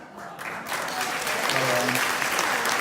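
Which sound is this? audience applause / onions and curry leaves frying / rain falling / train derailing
audience applause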